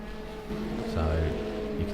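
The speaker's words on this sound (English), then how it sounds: "Now the car comes into pit lane." Sim racing GT car in a practice session at Matsusaka, pulling into pit lane in a video game: a steady, droning engine hum whose pitch rises and falls slightly, with a muffled surge partway through.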